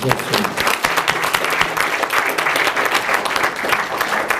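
A dinner crowd at a Lincoln Day political event applauds a court candidate, steady, fairly loud clapping from many people across the room, with some murmuring voices mixed in.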